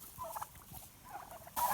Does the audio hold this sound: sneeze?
no